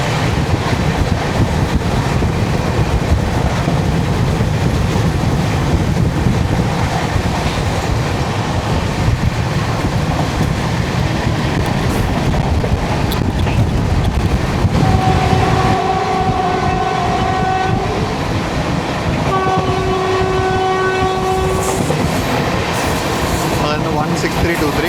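The Okha - Ernakulam Express rumbles loudly across the Cheruvathur bridge, a continuous rolling clatter of wagons with wind buffeting the microphone, then sustained horn blasts sound near the end.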